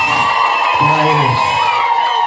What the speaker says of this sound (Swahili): vigelegele na makofi tena